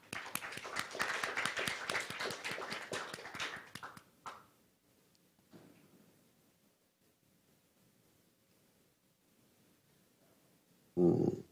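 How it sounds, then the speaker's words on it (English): Audience applause at a European biotech and healthcare investment forum: a dense, steady round of clapping for about four seconds that quickly dies away into near silence. "Please let's welcome Mr. Niglo with our round of applause"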